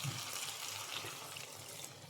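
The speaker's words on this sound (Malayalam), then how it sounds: "ഇതിലേക്ക് ഒരു 1/2 കപ്പ് വെള്ളം ഒഴിച്ചു കൊടുക്കാം" Half a cup of water poured into a pan of chicken masala being cooked with ash gourd, a steady splashing pour running for about two seconds with no voices.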